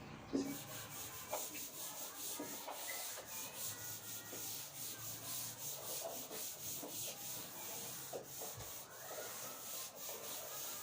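A duster rubs writing off a classroom board in repeated back-and-forth scrubbing strokes, faint and close, with no talking.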